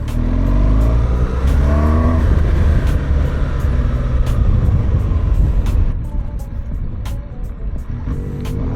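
Loud motorcycle engine droning close by as a bike rides along a road in Morocco near the Todra gorge, steady and strong for several seconds before dropping in level as it moves away.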